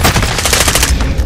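Rapid, loud automatic machine gun fire in Call of Duty: Modern Warfare, a fast steady burst of close, punchy shots running the whole short stretch.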